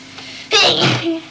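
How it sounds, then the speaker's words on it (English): A girl lets out one sharp, close sneeze with a short intake before the burst and a brief trailing exhale, against a quiet indoor background. "then a couple of minutes later, I sneeze again, and just carry on"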